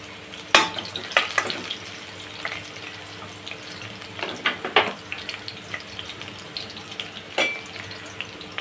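Curry leaves, home-grown and washed, fry in hot oil as a base for a tiger prawn masala, giving a few sharp, scattered pops and crackles over a faint, quiet sizzle.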